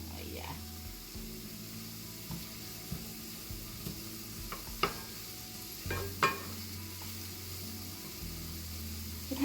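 Green beans stir-fry in sesame oil over medium-high heat, a faint, steady sizzle with occasional soft scrapes and stirs.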